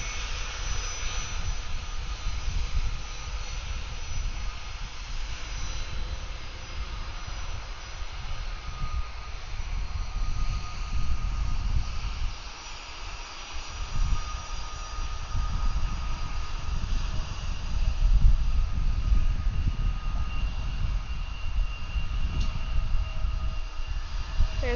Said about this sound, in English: Loud Pratt & Whitney PW2000 engines